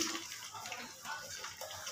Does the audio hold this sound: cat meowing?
no